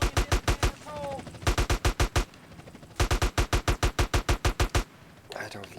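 Rapid bursts of gunfire in GTA San Andreas, two long strings of closely spaced loud shots separated by a short pause, with faint game sounds and a brief voice between the volleys.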